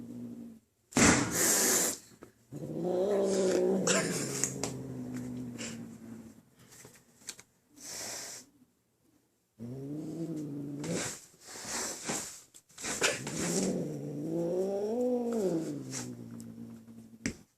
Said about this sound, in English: I'm videotaping us pissing the cat off.